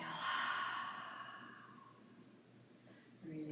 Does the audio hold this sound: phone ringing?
no